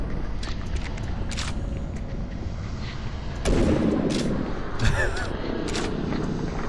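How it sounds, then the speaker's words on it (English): Gunfire in the video game Doom 3 Resurrection of Evil, heard as a few muffled blasts over a steady rumbling game ambience, with one stronger burst midway. "take out gun and shoot."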